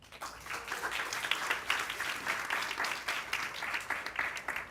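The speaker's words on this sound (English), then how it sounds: "Please, let's give our candidates another round of applause." A town hall audience gives candidates a sustained round of applause, a steady wash of many hands clapping from a room-filling crowd, moderately loud and without speech.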